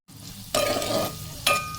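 Chopped onions hitting hot oil in a pan, with a bright sizzle that swells as they are stirred and a utensil clink near the end, heard close and without talk.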